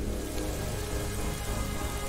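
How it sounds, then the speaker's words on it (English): Even, continuous rain patters in the video game World of Goo, a dense hiss with a low rumble that stays level throughout and carries no speech. "It's raining."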